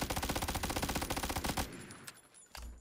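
Rapid close-range SMG bursts in a battle royale shooter: a fast, steady rattle of shots for about a second and a half, then a few scattered single cracks and a short burst.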